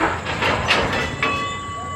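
A military special train on a Thai railway line, slowing as it passes, gives a close rolling rumble with rail squeal and a long steady tonal whine, alone without voices.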